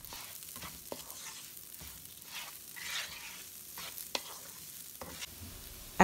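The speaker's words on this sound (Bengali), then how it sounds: "অথবা এই যে ভাজার শব্দ পাওয়া যাচ্ছে সেই শব্দটা কমে যাবে" Pulao rice frying in a pan gives a steady, moderate sizzle with scattered scraping stir strokes and a few sharp clicks, no voices.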